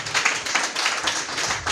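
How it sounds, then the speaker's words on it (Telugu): A church congregation clapping loudly during a prayer service, a brisk rhythmic wash of many hands close by with no talk over it. "గట్టిగా చప్పట్లు కొట్టండి"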